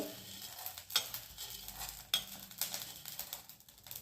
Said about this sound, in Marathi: आता आपण हे भाजून घेऊ. हे मेथीचे दाणे टाकले, थोडंसं गरम करून घेऊ आणि हा ओवा टाकला.